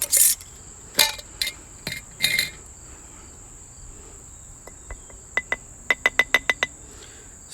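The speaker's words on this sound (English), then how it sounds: "Next, I'm going to grind the wormwood." Dried wormwood ground in a mortar and pestle, a series of sharp, sparse clinks and taps, some spaced out and then a quick rhythmic run of strikes, over a constant high background tone.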